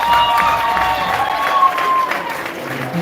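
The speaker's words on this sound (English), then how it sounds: "can you give yourself bigger applause?" Loud, close applause and some cheering from seated participants at a network-marketing training session, with voices and a bright tonal hum running over the clapping throughout.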